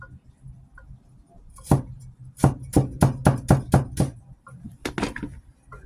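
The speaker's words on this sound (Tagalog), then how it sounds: "Slice ko ng maiksi para madaling nguyain." A knife chops through food on a cutting board for a bread and bell pepper dish: a single cut, then a quick, even run of about eight firm chops and a couple more, close up and with no talking.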